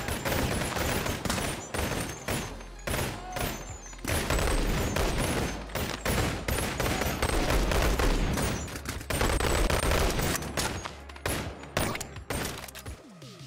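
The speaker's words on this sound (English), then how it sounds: "The gun forward mod gives forward 2 pistols which he will use to try and shoot you" Pistol gunfire in the VR game Boneworks with a gun mod, dense rapid shots and impacts in quick succession, loud and continuous with brief gaps.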